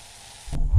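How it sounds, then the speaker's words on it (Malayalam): Onion frying in a pan with chili, turmeric and coriander powder for a drumstick meat-style roast, a soft sizzle that swells into a louder, close hiss with stirring at the end. "നമ്മുടെ ഉള്ളിയിലോട്ട് മുളക് പൊടി മഞ്ഞൾപ്പൊടി മല്ലിപ്പൊടി എല്ലാം ഒന്ന് ഫ്രൈ ചെയ്ത് വെച്ചിട്ടുണ്ട്"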